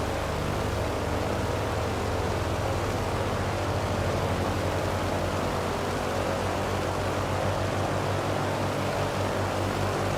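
Twin propeller engines of a Douglas DC-3 at run-up in Microsoft Flight Simulator 2020, a steady, loud, close drone with a low throbbing hum and constant broadband roar, unbroken and with no voices.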